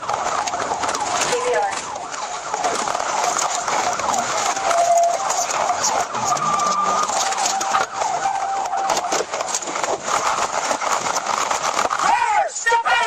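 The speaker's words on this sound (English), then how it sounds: "the sound of the engine almost completely drowns out the siren" A roaring car engine dominates during a high-speed police chase, with a police siren wailing faintly beneath it and tires squealing near the end, while a voice talks over the noise.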